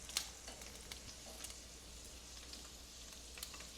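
Bacon frying in a pan, a faint steady sizzle with occasional small pops, no voices.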